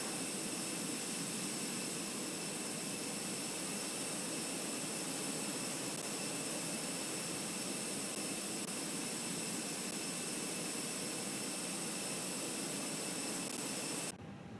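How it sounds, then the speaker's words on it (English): Airbus A320 jet engines starting up in Flight Simulator 2020, a steady broad roar with high whining tones held for about fourteen seconds, loud and unbroken, cutting off abruptly near the end with no voices. "our next flow is engine start, where the first officer will start both engines for us"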